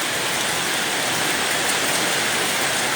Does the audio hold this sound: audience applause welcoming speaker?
no